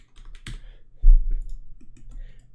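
Several sparse keystrokes tap on a computer keyboard, close and distinct, with one louder press near the middle and faint clicks around it.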